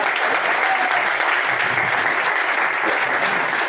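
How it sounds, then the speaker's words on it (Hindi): An audience at a team gathering for a beauty-work business breaks into loud, sustained applause. The clapping is dense and even, with no talk over it. "सबसे पहले मेरी प्यारी सी टीम के लिए जोरदार तालियां होनी चाहिए"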